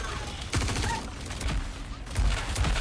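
Rapid gunfire from a firefight in Star Citizen crackles in close bursts, sharp reports stacking over one another during a hectic exchange.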